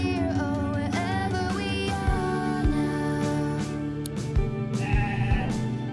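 A Wooltergeist, an undead sheep-like spirit monster from the Cassette Beasts video game, gives a synthesized bleating cry over layered game music, with several wavering calls spread through the stretch.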